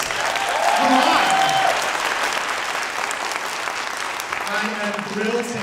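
An audience at a theater's Shakespeare monologue and scene contest showcase breaks into loud, continuous applause, with cheers and whoops rising above the clapping throughout.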